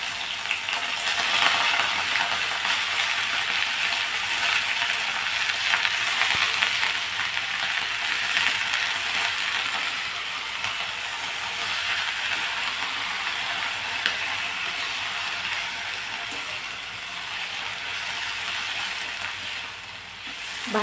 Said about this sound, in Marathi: ही भाजी या फोडणीमध्ये टाकणार आहोत